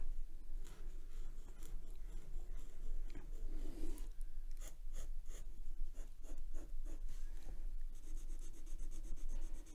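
Steady scratchy scribbling of a plastic-nib fineliner pen moving across paper, close and continuous with short pauses between strokes, no voices.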